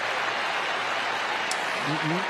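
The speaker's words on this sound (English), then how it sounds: "And the crowd get off their chairs again." A stadium crowd roars at an AFL football match between Fremantle Dockers and Hawthorn, a broad, steady wash of cheering with a commentator's voice faintly over it near the end.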